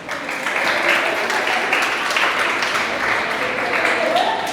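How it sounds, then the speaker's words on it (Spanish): A church congregation bursts into warm, continuous applause during a service, dense clapping carrying on throughout with voices mixed in the crowd. "Un aplauso a Dios por la vida de Miguel"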